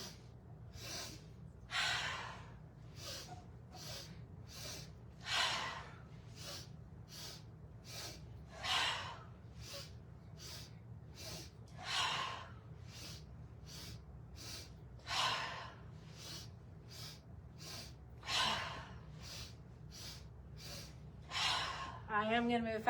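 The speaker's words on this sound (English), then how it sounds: "these are 3 sniffs through the nose, and then the nice exhale" Breathing exercise during chair yoga: repeated cycles of three quick, short nasal sniffs followed by a longer exhale, soft and close, recurring roughly every three seconds over a low background hum.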